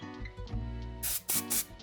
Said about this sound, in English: spray right at that root